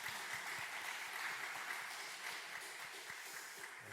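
A congregation at a Wednesday church service claps together for the worship team and newly ordained deacons, a steady, fairly quiet wash of applause from a room full of people.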